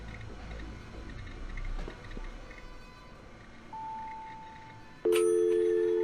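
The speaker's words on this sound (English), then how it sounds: "A ringer sounds unexpectedly unnerving amidst the silence." A massive rotary dial phone in the game Encased starts ringing out of near silence, a loud, steady electronic ring with a sharp onset that holds to the end, preceded by a faint tone over a quiet hum.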